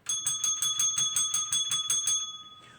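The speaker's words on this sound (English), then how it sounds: "Couple bell rings here." Quick, evenly spaced chain of about ten bright metallic bell strikes at a steady fast rhythm, close and loud, fading out at the end with no voices.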